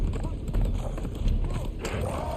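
Horse hooves clip-clop at a steady run in the video game Isle of Siptah, set against a busy game soundscape with rumbling ambience, fairly soft overall.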